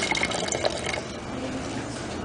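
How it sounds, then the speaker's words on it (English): Water poured into a plastic bottle already holding vinegar, a steady trickling fill that stays close and fairly loud for about two seconds, with no talk over it. "now we're adding 50 milliliters of water."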